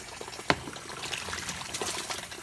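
Water is poured from a dipper onto a block of ice holding a toy, giving a soft, fairly faint splash with a brief sharp spatter near the start, then a low trickle.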